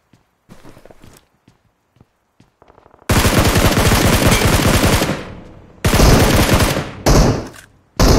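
Gunfire in the PUBG Mobile video game: a few scattered shots and footsteps, then long loud bursts of rapid automatic fire, close and dominant, broken by short pauses.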